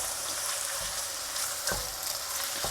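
Minced meat with crushed garlic fries in a pan for an oven-free lasagne, a steady close hiss and sizzle with occasional stirring scrapes, no talk.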